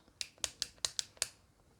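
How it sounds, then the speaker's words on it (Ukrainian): Six crisp, evenly spaced clicks from the click mechanism of an NYX Slick Click Fat Oil lip balm, close up and isolated against a quiet background. "І це бальзам для губ з такою клікалкою."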